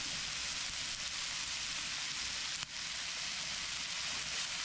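Shredded cabbage cooks in a hot pan with chicken, giving a steady, dense sizzle that holds evenly throughout, close and fairly loud, with one brief dip partway through and no voices.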